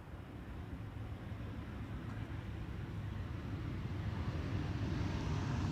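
Embraer 175 jet landing at Amsterdam Schiphol Airport, a steady broadband engine roar that swells slightly louder over the seconds, with no talk over it.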